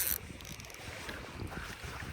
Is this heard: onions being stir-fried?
no